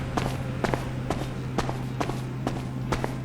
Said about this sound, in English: compared to boots that make loud noises when you walk.